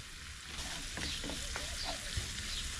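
Chicken fries fast in hot oil, a close, dense sizzle with bursts of crackling and sharp spits, loud and unbroken the whole way through, with no voices.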